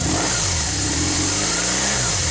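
A warmed-up car engine running smoothly after sitting in the sunshine, a steady, even mid-pitched hum with a slight rev, close and loud, no talk.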